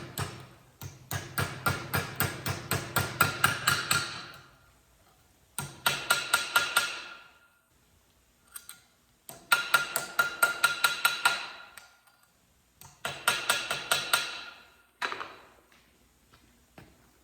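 Sheet metal is hammered to shape a star-shaped napkin holder: close, sharp metallic blows in rapid bursts of a dozen or so strikes, separated by short pauses, with no talking.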